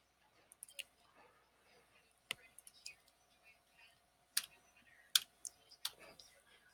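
Sparse clicks of a computer keyboard as a category name is typed into a blogging dashboard, a few sharp isolated keystrokes and mouse-like clicks spread out, faint and close in an otherwise quiet room.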